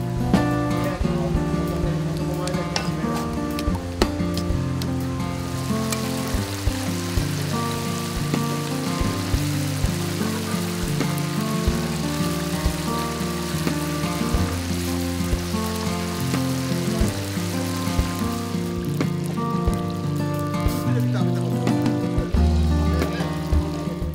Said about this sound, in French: Il se mange en omelette, cru, mais aussi en friture, comme nous le prépare ce pêcheur.